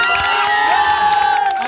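Crowd at a Maithili music show cheering and shouting with whoops, a dense, continuous roar of voices that holds steady throughout, with no distinct clapping standing out.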